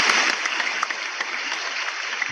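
Canned applause from a soundboard button on a football podcast, a dense steady wash of clapping and crowd cheer lasting a couple of seconds, alone and fairly loud with no talk over it.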